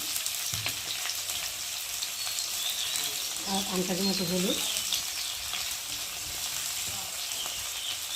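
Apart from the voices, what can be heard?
prawns and spices frying in pan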